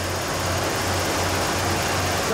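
A junkyard Ford Bullnose truck idles high because of a brake booster problem, giving a loud, steady engine drone with a low, even hum and no break in it.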